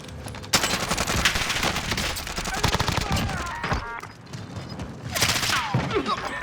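Rapid automatic gunfire from a Call of Duty Warzone match, dense bursts of shots rattling almost nonstop with a sharp onset, a brief lull, then another loud burst, with game sounds layered in.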